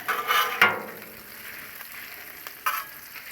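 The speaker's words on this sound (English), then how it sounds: "Let's stir up this bacon a little bit here." Bacon sizzles steadily on a Blackstone griddle, with a few scraping stirs of a utensil rising above the continuous hiss, close and fairly loud.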